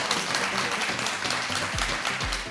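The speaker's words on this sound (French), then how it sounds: "Applaudissements encore avec notre chaleureux public." A studio audience on a café-style talk show keeps up loud, steady applause and cheering throughout, with a couple of low thumps near the end.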